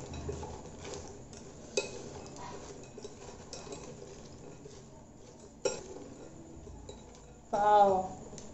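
Crispy corn, chopped tomato and coriander are tossed in a bowl, giving soft scraping stirs and a couple of sharp spoon clinks against the dish, then a brief voice at the end.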